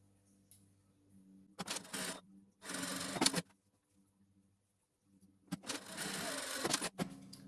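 Several short bursts of a sewing machine stitching fabric, close and buzzing, each lasting about half a second to a second and a half, separated by quiet pauses.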